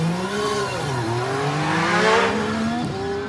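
A German touring car launches from the start line of a hill climb at Shelsley Walsh, the engine rising through gears with clear shift dips, loud and close, then fading slightly as it pulls away; no voices.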